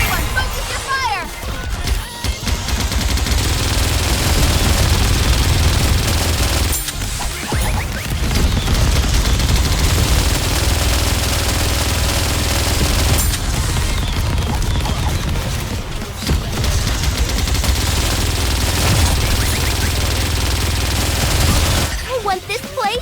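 Gunfire and bombardment in the video game Goddess of Victory NIKKE: dense, loud, sustained automatic fire and booming impacts in long bursts with brief pauses between them, and voices talking over it.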